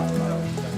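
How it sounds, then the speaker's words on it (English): Steady rain patters on an outdoor film set during a shoot for a musical production, a dense, continuous wash of drops close by with no voices over it. "Well, it's raining"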